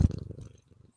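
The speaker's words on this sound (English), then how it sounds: "I heard that purr." A short, low purr from a domestic cat, starting with a louder rumble and fading to a faint, fluttering tail within a second, heard close by with no talk.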